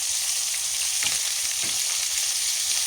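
Fish frying in a pan on a gas stove, with a steady loud sizzle throughout and a couple of brief scraping stirs as the pieces are turned.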